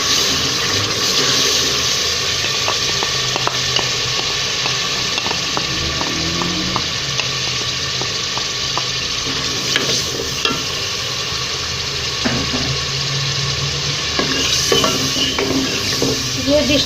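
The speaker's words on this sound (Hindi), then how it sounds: "अब इसमें हम दही ऐड करेंगे, जो मैं फ्रीज़ करके रखा होता है मेरे पास।" Frozen yogurt stirred into frying masala for a white chickpea curry, giving a loud, continuous close-up sizzle and bubbling with frequent clicks and scrapes of a spoon against the pot, no voices.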